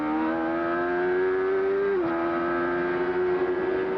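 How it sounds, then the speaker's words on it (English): Al Unser Jr.'s CART race car at Mid-Ohio in 1991, heard from onboard as a loud, steady high-pitched engine drone that dips briefly as the throttle is blipped, then holds at speed. "Listen to him play with that throttle."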